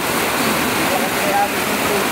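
Steady broadband rush of flowing water, continuous and fairly loud, like a strong current running past close by.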